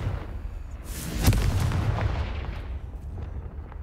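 A Confringo fire spell blast erupts in Hogwarts Legacy, a loud booming burst that peaks sharply and then rumbles and fades over a few seconds.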